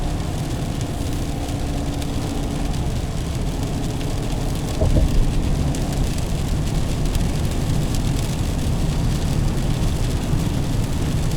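Steady rain patters on a 2020 Chevrolet Silverado 1500 RST truck during a drive in New England, a dense continuous wash of drops over low road and engine rumble, with a slightly louder thump near the middle.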